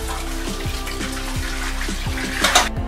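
Kokum- and salt-coated bangda mackerel pieces are rinsed under a running kitchen tap, with a steady splashing stream of water and intermittent drips and gurgles, close and fairly loud, with no talking.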